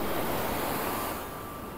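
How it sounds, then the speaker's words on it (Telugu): Ocean surf at Black Sand Beach, Varkala, near the sunset point: a brief, soft wash of waves with a breath of wind, fading slightly toward the end. "Black sand beach, sunset point."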